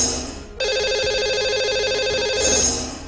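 A telephone rings once in a sustained electronic trill while a radio show dials out to a lucky caller, clear and close, with a faint whoosh before and after.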